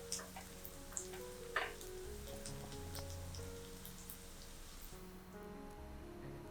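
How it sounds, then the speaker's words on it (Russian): Onion frying in a skillet, a quiet bed of crackling sizzle with scattered ticking pops and a couple of sharper clicks, while soft background music plays over it. "Лук отправляю в сковородку и обжариваю 2-3-4 минутки до слегка красивого золотистого цвета."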